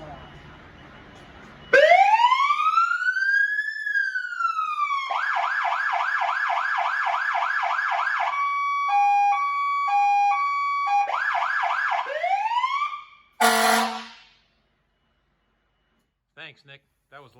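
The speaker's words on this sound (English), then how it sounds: "Nick, can you run the siren for us?" A fire engine siren runs through wailing and yelping patterns, loud and near, followed by a brief blast of the air horn and then quiet with faint sounds.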